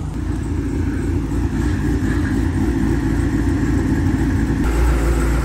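A street grudge-racing car is driven slowly in, its engine giving a loud, steady low rumble close by with no break.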